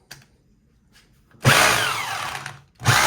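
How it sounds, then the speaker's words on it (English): Bosch Bulldog hammer drill switched to hammer drill mode, revving up loud and close after a quiet pause, a sustained buzzing hammering whir that stops briefly, then starts again. "Let's put it in hammer drill."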